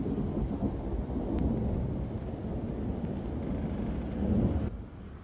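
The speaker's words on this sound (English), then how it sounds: "Residents also witnessed an unusual event called thunder snow" Thunder snow over Toronto during a heavy blizzard in Ontario, a sustained deep rumble rolling on for several seconds without a pause, fairly loud with a broad, noisy texture.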